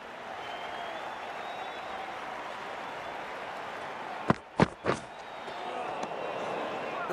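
A cricket crowd at a T20 World Cup match between Afghanistan and South Africa sends up a steady, dense roar of cheering and applause, broken midway by three sharp, loud thuds before the din carries on.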